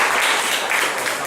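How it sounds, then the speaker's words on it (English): Audience at a student annual union event at a college clapping together, a brief continuous burst of applause at steady loudness. "let us all give a big round of applause to the 8 parties"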